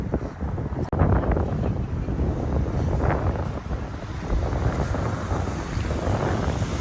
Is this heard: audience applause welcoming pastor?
no